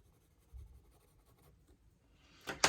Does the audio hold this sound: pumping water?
no